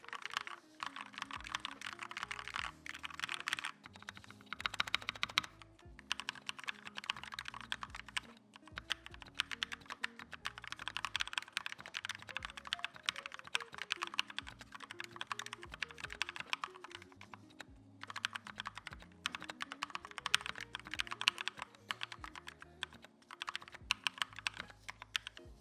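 Typing on a modded GMMK TKL custom mechanical keyboard with Kailh Red switches: dense, continuous clacking keystrokes in quick bursts with brief pauses, close and alone, while soft music plays faintly underneath.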